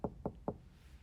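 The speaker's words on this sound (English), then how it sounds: "I rode my bike to his house and knocked on the door." Three evenly spaced knocks on the front door of a house, quick and close, fairly soft, with no talk.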